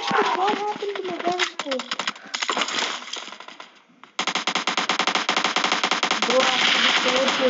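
Rapid automatic submachine gun fire in a multiplayer shooter video game, dense bursts of loud staccato shots running through most of the stretch, with people talking over the first part.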